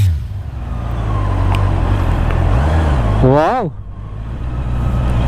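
The stock exhaust of a Honda CBR 650R four-cylinder motorcycle hums steadily at close range during a city ride. Its note climbs sharply in a quick rev, then drops and resumes under street traffic, and a rider exclaims once.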